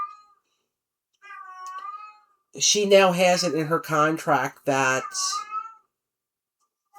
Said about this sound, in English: yes, we have a cat. You might be able to hear her.